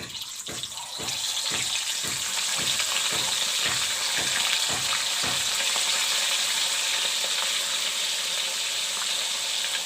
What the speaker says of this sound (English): The oil turns hot, then I will put the fish into fry. Oil is turned hot. Now put in the fish.